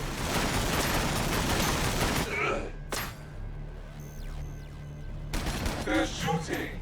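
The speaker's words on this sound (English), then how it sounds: "They're shooting at me! Right through me armor!" Heavy gunfire in Warhammer 40,000: Battlesector, a dense fusillade of rapid shots that breaks off, then a single sharp crack and later renewed bursts, with gruff voices shouting in the fight.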